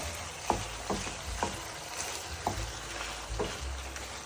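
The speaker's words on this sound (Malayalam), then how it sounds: "ചിക്കൻ ഇങ്ങനെ ഫ്രൈ ആയിക്കൊണ്ടിരിക്കുന്നുണ്ട്." Chicken pieces for ketchup chicken fry in a pan, a continuous sizzle broken by regular scraping knocks as they are stirred and turned.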